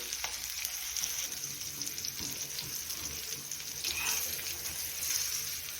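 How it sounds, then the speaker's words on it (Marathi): Fish frying in oil in a pan over a lowered gas flame, a steady close sizzle with a bright hiss that swells slightly near the end, no talking. "तेलामध्ये आपण टाकून घेतलेला आहे खालची बाजू एक आपण दोन तीन मिनिट फ्राय करून घेऊया"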